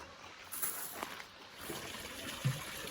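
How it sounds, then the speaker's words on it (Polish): Water trickles faintly from a spring in Sofiyivka park in Uman, Ukraine, a soft, steady flow with a few small splashy accents, heard from close by in a quiet outdoor setting. "A tutaj ludzie mogą sobie nabrać trochę wody. Srebrna woda."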